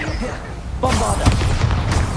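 The Bombarda explosion spell in Hogwarts Legacy goes off with a loud, broad blast that erupts partway through and lingers as crackling, rumbling debris, amid ongoing combat noise and a voice.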